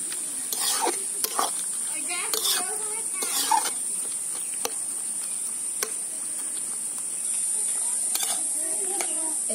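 Fried okra being stirred together with spices in a pan, with soft intermittent scraping and rustling over a constant high sizzle-like hiss.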